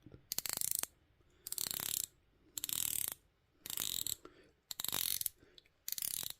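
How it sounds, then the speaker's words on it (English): Crisp ratcheting clicks from the 120-click unidirectional bezel of a Squale 1521 diver watch being turned, in six short bursts separated by brief pauses, close and isolated. "the bezel on this is 120 click unidirectional bezel. I will be quiet so that you can hear it"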